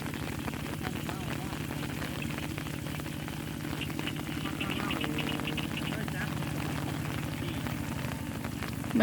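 Rain falling over rice paddies during rice planting in a rural Thai village, a steady, dense patter of drops close by with a voice faintly underneath.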